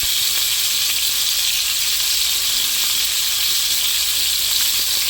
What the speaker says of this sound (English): you bathe the fish in the butter or oil that you're cooking it in